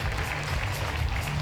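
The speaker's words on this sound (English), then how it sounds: "Round of applause for Sandra." Brief burst of audience applause for climber Sandra Lettner at the IFSC combined qualifier in Toulouse, a dense crowd of clapping at steady level.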